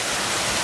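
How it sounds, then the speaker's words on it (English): A waterfall at the Columbus Zoo, a steady, loud, broadband rush of falling water with no breaks, heard briefly and close. "This is a waterfall."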